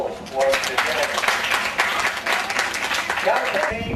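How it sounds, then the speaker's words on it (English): Audience applause at a zoo bird show, a steady wash of clapping from a crowd lasting several seconds, fairly close and full. "he gets a nice big round of applause once again"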